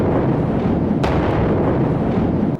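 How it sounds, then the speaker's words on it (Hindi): A huge explosion in Homs, Syria, throwing up a fireball: a loud, sustained roaring rumble with a sharp crack about a second in, heavy and distorted, with no voices. "पहले यहां धुआं उठता दिखाई दे रहा है और इसके चंद सेकंड बाद धमाके के साथ आग का गुबार उठ गया"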